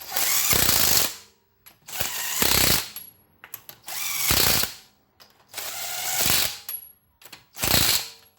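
A power tool drives lug nuts onto a wheel of a 2015 Jeep Cherokee, close and loud, in five separate bursts of whirring and ratcheting with short pauses between them.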